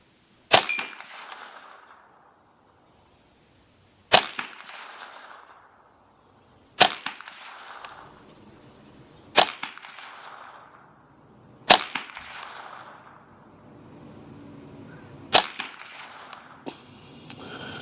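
A custom Ruger 10/22 rifle firing 40 grain .22LR Golden Bullet rounds: six sharp, loud cracks spaced a few seconds apart, each trailing off in a brief echo.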